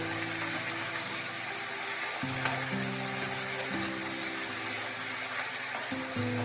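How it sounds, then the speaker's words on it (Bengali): Small mourola fish and flat beans frying in a pan with salt and turmeric as they are stirred. A close, steady sizzle runs throughout, mixed with a low, uneven scraping and stirring rumble, and no voices. "নুন হলুদ দিয়ে ভালোভাবে নাড়াচাড়া করে নিতে হবে।"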